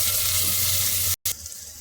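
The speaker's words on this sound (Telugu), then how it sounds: "టమాటాలు వేగిపోయాయి" Chopped tomatoes fry in a pan with a steady, close hiss and sizzle, broken by a brief silent cut partway through before the sizzling resumes more softly.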